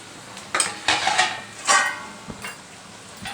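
A spoon scrapes and clatters through onions and turmeric in a curry pan of mixed vegetables, giving a few irregular stirring strokes close by with soft sizzling between them.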